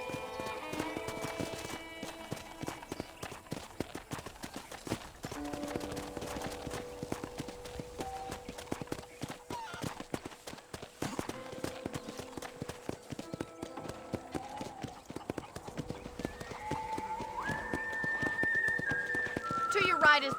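Horse hooves clip-clop steadily on a ranch in Red Dead Redemption, a brisk continuous rhythm at moderate volume, with a voice talking over it and occasional whinnies and game music tones.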